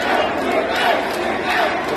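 A cheering crowd of supporters at a fight, a dense roaring wall of shouting voices, loud and sustained throughout.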